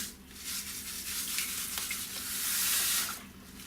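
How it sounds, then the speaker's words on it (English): A continuous hissing, granular pour of raw organic sugar into liquid for kombucha, steady and close, swelling slightly toward the end before tapering off. "I'm using raw organic sugar. So we want to pour this in."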